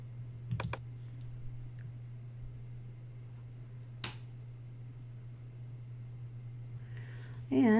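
A few sharp, isolated clicks of a computer mouse sound over a steady low electrical hum in a quiet room, and a brief louder sound begins right at the end.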